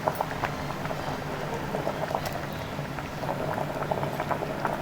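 A pot of Tamil poricha kulambu curry with ground coconut bubbles steadily at a close, lively simmer, with small pops and gurgles throughout and no talking.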